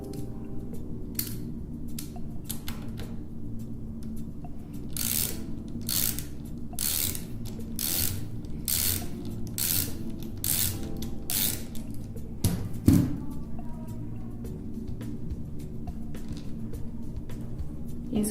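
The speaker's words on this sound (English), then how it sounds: "While pressing down on the spring cover, remove the slotted nut." A slotted nut comes off the hand wheel mechanism of an X5 unit while the spring cover is held down. Repeated ratcheting clicks and metallic snaps come up close in a steady rhythm, with one sharper clunk near the end and no talking.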